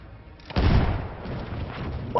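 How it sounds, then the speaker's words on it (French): Explosion in the video game Battlefield 1: a sudden loud boom after a brief quiet start, followed by a sustained rumbling roar of debris and noise that stays strong to the end. "Explosion!"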